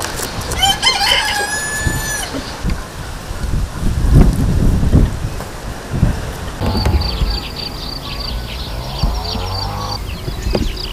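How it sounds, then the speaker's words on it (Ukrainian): Roosters crow outdoors in a village, with several drawn-out calls, some near and some farther off, along with clucking and wind buffeting the microphone. "О, петушки"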